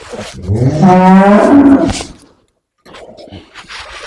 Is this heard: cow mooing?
yes